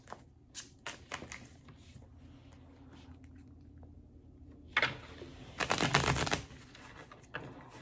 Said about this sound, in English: I'm going to do one last shuffle